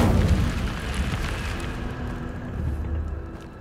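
An Incendio fire spell cast in Hogwarts Legacy erupts as a loud, rumbling burst of flame that roars from the start and slowly fades while a low crackling hiss lingers.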